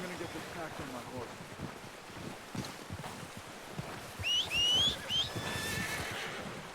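A horse whinnies loudly near the end in the video game Red Dead Redemption 2, a high wavering neigh over a low background of wind and faint movement.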